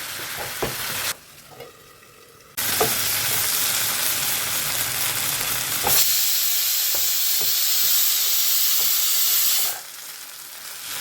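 Potatoes dry-fry in a covered pan with no water added, giving a steady, loud sizzling hiss that drops away briefly and then surges back, with occasional stirring clinks and no voices.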